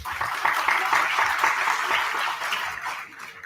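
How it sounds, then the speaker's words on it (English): Audience at a BBA inauguration event applauds achievers, a sustained wash of many hands clapping at moderate level throughout, fading a little toward the end. "A huge round of applause for our achievers."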